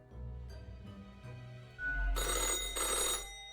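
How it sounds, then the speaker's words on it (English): An old-fashioned telephone rings in the office of the video game Death and Taxes: a bright metallic bell ring swells in after softer game ambience and music, rattling continuously for over a second before easing. "The old-fashioned phone again rings right as you settle in."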